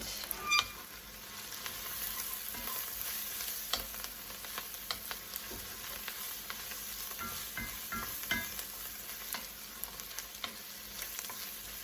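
Brussels sprout risotto with blue cheese, seasoned with pepper, stirred in a pan: a steady low sizzle runs throughout, with scattered scraping and clicking strokes of the spoon and no talking.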